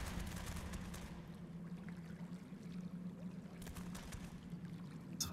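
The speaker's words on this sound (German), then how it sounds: "Das Wasser fließt in die Richtung." Faint, steady flowing water runs in a cave setting of ARK Survival Ascended, a soft continuous rush and trickle at low level with a few brief brighter splashes and no talking.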